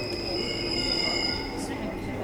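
A Seoul metro Line 2 train runs with a steady rumble and high, sustained wheel squeal, loud and close from inside the carriage.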